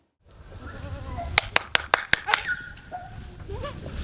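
Goats bleat at a farm in a village where about fifty of them are kept, several overlapping nearby calls over background voices, with a burst of sharp rhythmic claps or knocks in the middle.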